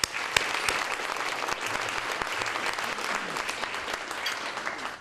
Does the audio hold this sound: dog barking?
no